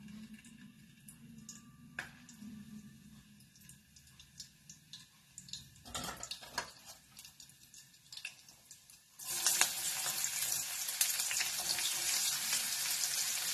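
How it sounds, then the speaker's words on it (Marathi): Chopped onions dropped into hot oil in a home kitchen pan, a quiet trickle and clatter giving way after a few seconds to a loud, steady broad sizzle that keeps going without talk. "तेल तापल्यानंतर याच्यामध्ये कांदा घालायचा"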